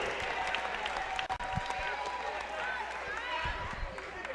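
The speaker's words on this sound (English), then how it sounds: "how about 1 more round of applause for the 7th grade feeder program for Mountlake Terrace High School" Basketball gym crowd applauding a 7th grade feeder program at a Mountlake Terrace High School boys game, steady clapping and cheering throughout with sneaker squeaks and voices mixed in.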